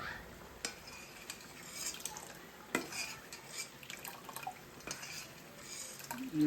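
Chili powder being stirred into a chicken curry with oats, giving soft wet scraping and intermittent clinks of a spoon against the pot, fairly close and quiet, with no talking.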